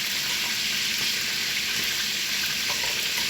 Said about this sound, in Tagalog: Habang nakaprito yung chicken